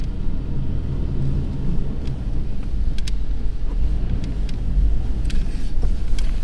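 A car drives along a sandy dirt road beside the beach at Cape Lookout on the Outer Banks, giving a steady low engine and tyre rumble close by with light rattles, alone without talk.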